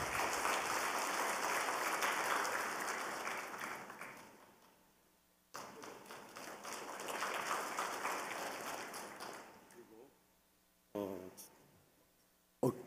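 A church congregation at an early-morning Lent prayer service bursts into warm applause, a sustained crowd clapping that fades, then a second round, ending with a few scattered claps and taps.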